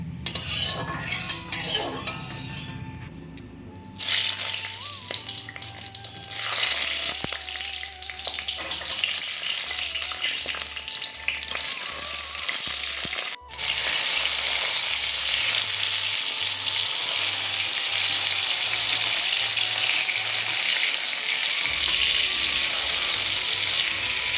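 Tomatoes sizzle and fry in mustard oil in a wok, a steady loud crackling hiss running throughout with occasional scraping clinks of a utensil stirring against the pan.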